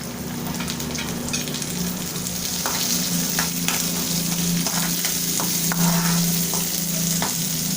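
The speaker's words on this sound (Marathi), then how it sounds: "छान परतवून घेऊया।" Green chilli pieces and curry leaves sizzling in hot oil in a pan on low gas, a steady crackling fry with occasional stirring scrapes, no talk.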